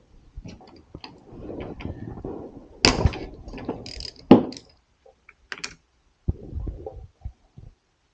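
A ratchet with a 10 mm socket works a bolt on a 2002 Suzuki GS500, giving close, sparse clicks and metallic ticks in short irregular bursts with quiet gaps between them.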